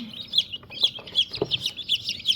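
Newly hatched chicks in a brooder peep constantly, a close, high-pitched run of rapid cheeping with one louder, lower call partway through.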